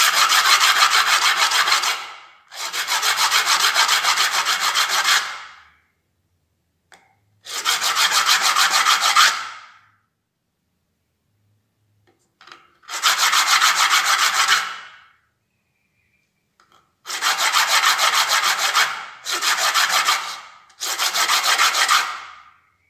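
A brass ring is rubbed by hand on flat sandpaper in seven long, loud, close scraping strokes, each a rough rasp lasting a second or two, separated by short silences.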